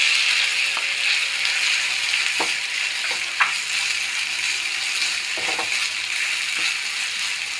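Ragi upma with grated coconut frying in a pan, a steady soft sizzle with occasional sharp scrape and stir clicks, close and alone.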